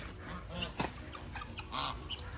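Geese honking at a small farm pond where birds including a peacock are being fed, a few short nasal honks over steady outdoor background noise, moderately distant.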